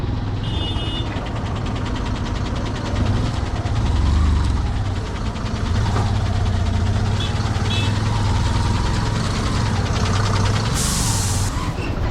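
A motorcycle engine drones steadily and loud for the whole stretch while riding a rough, muddy Ladakh road, with low rumbling and bumps from the uneven surface and no clear talk.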